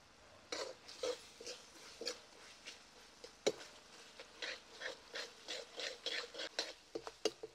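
Ginger garlic paste is stirred and fried in a pan for Maharashtrian-style aloo gobi gosht, with a spoon scraping and rasping in steady strokes close by over a faint background sizzle, no talking.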